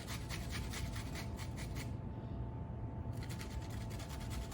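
Apples being grated on a kitchen grater make a close, rhythmic rasping of repeated strokes, pausing for about a second before resuming.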